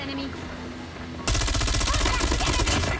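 FFAR 1 assault rifle in a video game fires a fast, unbroken automatic burst, loud and close, kicking in abruptly after a short stretch of quieter game ambience with a musical tone.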